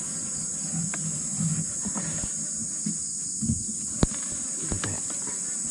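Bees buzz steadily around a galon container covered with mosquito netting, a continuous insect drone with faint scattered knocks and rustles nearby.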